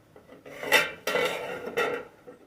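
A metal lid goes onto a cooking pot of boiling cauliflower, three clanking contacts in close succession, each ringing briefly, close and fairly loud with no talk.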